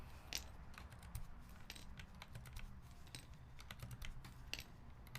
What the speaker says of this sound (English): I'll pull these keycaps off